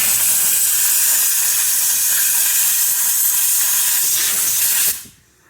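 A compressed air line blasts grit and dirt out of the chassis of a Nissan Navara NP300, a loud, steady, close hiss that holds for about five seconds before cutting off abruptly.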